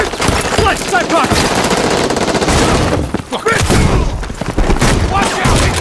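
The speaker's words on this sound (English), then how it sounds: "Watch out! Incoming fire!" Rapid, dense gunfire in the tactical shooter Rainbow Six, loud and sustained for several seconds with a brief lull midway, as an incoming volley of automatic shots and impacts overlaps with voices.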